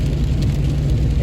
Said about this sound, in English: My car sounds like crap.